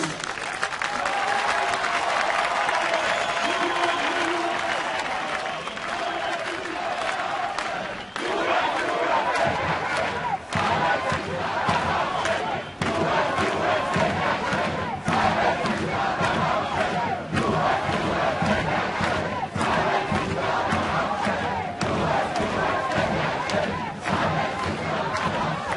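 A large crowd at an Iranian protest rally in New York against Rouhani applauds and cheers, loud and continuous for nearly half a minute, with a brief dip before the clapping swells again.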